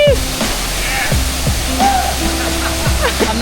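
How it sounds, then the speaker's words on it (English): A waterfall in Japan: rushing water pours continuously in a loud, dense roar, with bright bird-like whistles and faint voices scattered over the splashing. "That is such a great waterfall to come visit."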